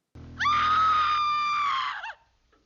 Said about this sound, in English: A woman sees her and screams for a second